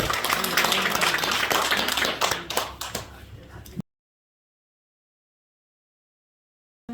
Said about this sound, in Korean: 다시 한번 하나님께 감사의 박수 드리겠습니다